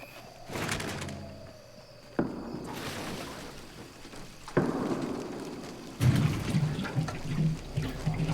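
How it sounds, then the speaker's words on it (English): Gasoline is poured over a car in the video game Fortnite, with sloshing liquid and clunking handling sounds that come in several distinct bursts, fairly close and moderately loud. "So you don't have to fill up the gas tank, you just pour the gas on the car."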